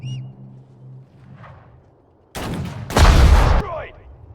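Gunfire and explosions break out in a Sudden Strike 4 battle at El Alamein in the desert, a short quiet lull followed by two loud bursts of shooting and blasts close by.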